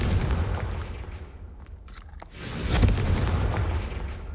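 A Confringo fire spell explodes in the Hogwarts Legacy video game, with a loud booming blast that fades to a dull rumble, then a second heavy burst and rolling roar close in the mix.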